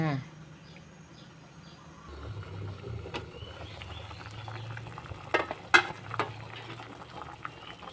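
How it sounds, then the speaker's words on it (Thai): A clear pork-bone soup with pickled mustard greens boils hard in a pot on low heat, bubbling steadily up close, with a few sharp clinks and someone talking over it. "ขนาดไฟอ่อนแล้วนะคะนะยังเดือดแรงขนาดนี้เลย"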